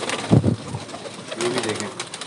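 Parwazi flying pigeons on a rooftop coo close by, one burst of low throaty calls followed by softer murmuring and a brief higher note.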